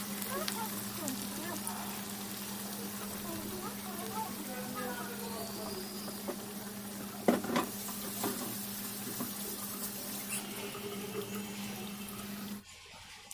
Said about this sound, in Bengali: এখন অন্যান্য পিসগুলো আমি ঠিক এইভাবে করে ভেজে নিব।